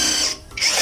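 A power impact driver whirs in two short bursts with a brief dip between, close and loud, during repair of a noisy Rusi Venus motorcycle engine with connecting rod and bearing faults.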